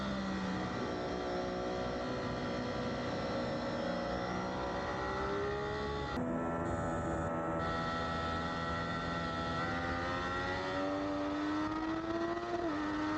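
Racing motorcycles at a CVMA track round, engines holding a high, steady whine as one bike passes another, the pitch rising and shifting near the midpoint and again toward the end, loud and continuous with no talk.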